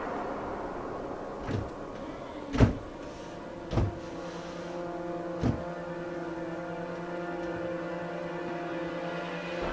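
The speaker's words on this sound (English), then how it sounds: "This is a sliding door." Resident Evil 0 sliding door opening: a few sharp mechanical thuds followed by a sustained low droning hum with steady tones, fairly close and without talk.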